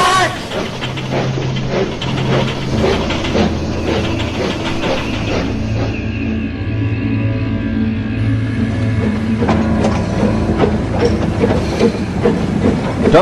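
A toy engine named Duncan reversing his train along the track, a steady rolling clatter of wheels with rhythmic clicks and a sustained whistle-like howl, voices and music layered over it.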